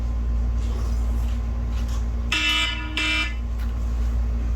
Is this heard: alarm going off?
yes